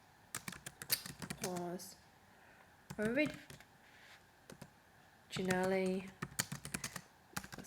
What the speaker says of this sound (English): I can just delete that text and then type